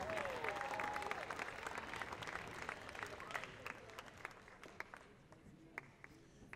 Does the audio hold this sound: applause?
yes